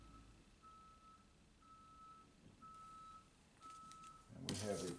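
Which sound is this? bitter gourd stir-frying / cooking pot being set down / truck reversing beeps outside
truck reversing beeps outside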